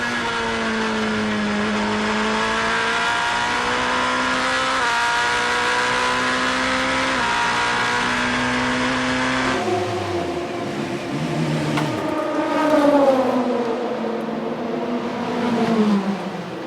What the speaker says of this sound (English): Here is Gerard van der Garde under pressure from Ferdy Habsburg, who takes to the grass to try and go round.